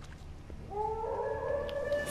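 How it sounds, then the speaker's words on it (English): A hunting dog howls in the woods in The Witcher 3, a long rising, wavering howl that swells in at mid-distance and holds steady over a quiet ambient bed. "Okay, that's a hunting dog, I guess."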